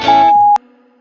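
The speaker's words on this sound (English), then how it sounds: "I'll leave my questions as a message at the dial tone." A single steady answering-machine tone holds for about half a second and then cuts off abruptly with a faint click.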